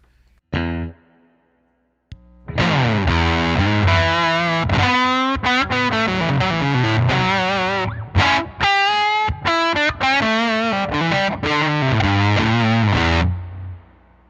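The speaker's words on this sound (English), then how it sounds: "Just the guitar, into the fuzz, into the amplifiers." Fuzz-distorted electric guitar plays a short riff through an amp, thick and buzzy, with sustained chords and quick breaks between phrases.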